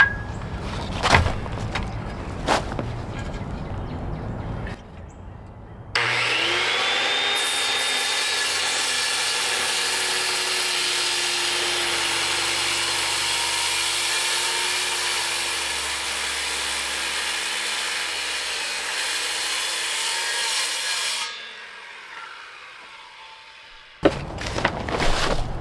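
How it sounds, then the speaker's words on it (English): A circular saw cuts through a rotten wooden beam in one loud, sustained whining pass of about fifteen seconds. Short rough bursts of cutting and handling noise come before and after it. "I'm going to start out with the circular saw and then move to the sawzall."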